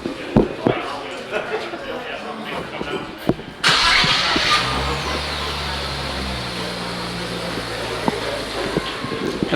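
A stock Nissan Z sports car engine cranks and fires up with a sudden loud burst, then settles into a steady, fairly quiet idle, with people talking nearby before the start.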